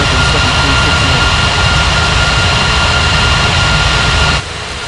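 Airliner jet engines of an Airbus A340-600 or Boeing 777-300ER, a loud, continuous broadband roar with a high whine that drops off abruptly near the end.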